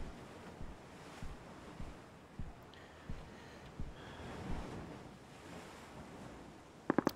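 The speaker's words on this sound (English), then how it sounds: "The waves are so loud, I'm worried somebody might be behind me and I won't be able to hear them." Ocean waves wash and surge in the PUBG video game, a continuous windy surf roar with soft rhythmic swells at regular intervals, fairly quiet and without speech, ending in a few sharp clicks.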